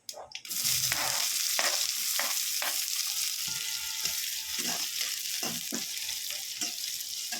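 Chopped onions frying in oil with mustard seeds, cumin and curry leaves for a manathakkali sambar, a steady crackling sizzle punctuated by rhythmic spatula stirs, close and unaccompanied by speech.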